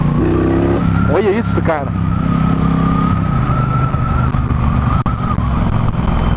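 A Triumph Bonneville Bobber motorcycle engine rumbles nearby beneath excited talk, with a brief siren-like chirp early on.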